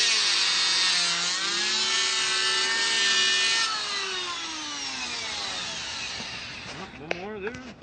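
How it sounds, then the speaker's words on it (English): An electric power planer makes a pass along wood for a window casing, running as a loud, steady high whine for several seconds, then spinning down with a falling pitch. "then I'll set the depth on my planer about half as shallow, and then I'll run another pass"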